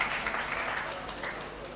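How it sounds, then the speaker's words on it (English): An audience at a national-level Ayurveda workshop claps for a participant, a steady, fairly faint wash of applause with no clear pauses. "Big round of applause for Suchitra"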